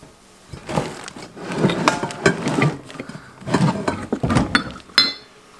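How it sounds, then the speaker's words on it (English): A white punch bowl being taken out and handled, with a series of clunks, knocks and scraping bumps spaced across a few seconds, close and moderately loud, ending in a sharper ceramic tap. "I want to get this white punch bowl though. I want to use it for the punch."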